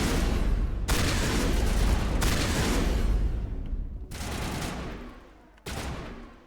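Loud shotgun blasts in the sci-fi shooter Mass Effect, four heavy booming shots each followed by a ringing decay, close and alone without talk.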